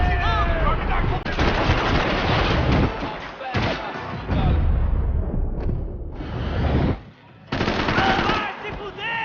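Rapid gunfire from the Max Payne video game, bursts of automatic shots and explosions filling the clip, loud and dense, with brief pauses; a voice shouts over parts of it.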